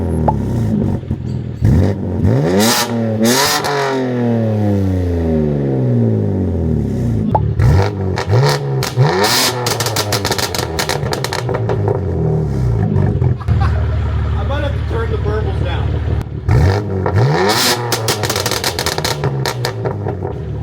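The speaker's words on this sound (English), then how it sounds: "I think that's a little too much burble for me." A modern BMW M3 exhaust snarls and burbles hard through repeated acceleration pulls, loud and close, with rising and falling revs and crackling overrun pops between gear changes, no talking.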